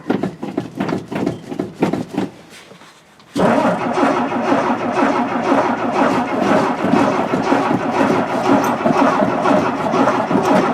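A car engine cranks in a shed with rapid starter pulses, pauses briefly, then catches and settles into a loud, steady running rumble close by.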